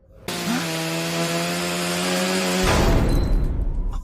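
A power saw cuts loudly and steadily through a door, its sustained whine running unbroken for over two seconds, then turning to a rougher, grinding rasp as the blade bites and struggles.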